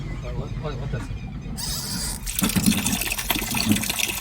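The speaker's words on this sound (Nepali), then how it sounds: "यो साउन्डले पनि तपाईँहरूले बुझिहाल्नुहुन्छ पानी आइरहेछ" Water rushes and gushes steadily from the outlet pipe of a repaired water pump, growing louder partway through, while a person talks over it in Nepali.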